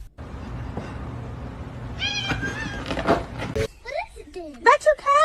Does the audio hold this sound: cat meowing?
yes